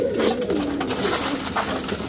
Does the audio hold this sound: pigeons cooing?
yes